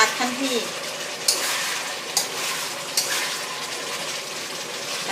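Pork sizzles and fries in thick, reduced oil in a pan, with a steady hiss of grease and a few sharp spatters and utensil taps over a continuous bed of frying noise.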